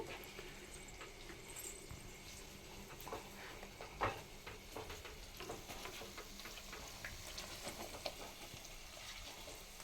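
Eggs fry in a pan for a garlic chili egg dish, a soft continuous sizzle with occasional scraping clicks from stirring, quiet and close.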